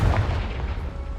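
A Confringo spell explodes in Hogwarts Legacy, one short deep blast that rolls on as a low rumble for about a second.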